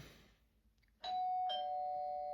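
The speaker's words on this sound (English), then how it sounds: "somebody rang the doorbell" A two-tone electronic doorbell chime rings once, ding then dong, clear and close, the second tone lingering and fading in a quiet room.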